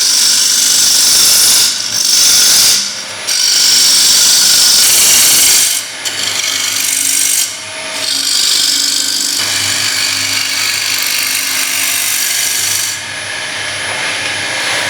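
A bowl blank spins on a wood lathe while a bowl gouge shapes it, producing a loud, steady rasping scrape broken by short pauses as the tool lifts off and re-engages.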